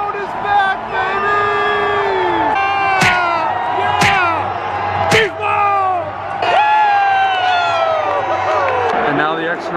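Stadium crowd at a Seahawks game roaring and yelling after a Marshawn Lynch touchdown and extra point, a loud sustained mass of cheers and whoops with sharp shouts, close voices talking over the din.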